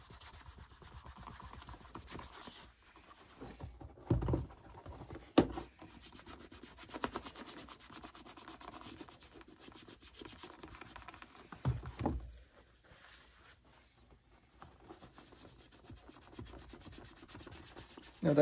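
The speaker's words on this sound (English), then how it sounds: "Sand it. Smooth it out." Hand sanding on a water-damaged leather shoe upper makes a soft, steady rubbing and scratching, quiet and close, with a few brief louder scrapes and short pauses.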